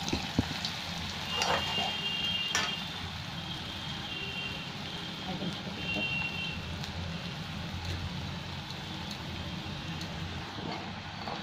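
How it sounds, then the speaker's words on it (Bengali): Small potato pakoda balls frying in hot oil in a kadai, a soft steady sizzle that runs throughout with a few brief clicks near the start. "এবার ছোট ছোট বল বানিয়ে ভেজে নেব"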